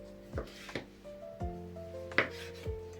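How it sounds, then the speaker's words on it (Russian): A knife cuts sausage into strips for homemade pizza on a board, about five crisp, separate strokes spaced evenly, close and fairly quiet, with a steady low tone humming underneath. "Колбаску я нарежу полосочками"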